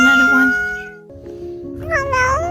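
A stray cat gives a drawn-out meow followed by a second rising, wavering meow, close and clear, while a person speaks nearby.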